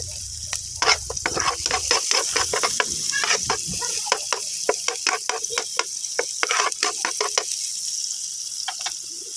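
Garlic and onion sautéing in a hot pan, a continuous close sizzle dotted with sharp crackles and pops throughout.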